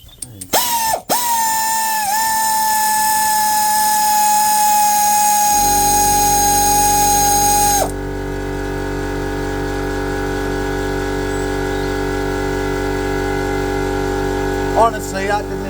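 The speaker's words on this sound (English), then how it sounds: "Let's go with these bolts out. Yeah, ratchet." A ratchet spins out differential cover bolts, a close, steady whirring drone with clicks and tonal pitch shifts, running continuously for most of the clip before a brief clatter near the end.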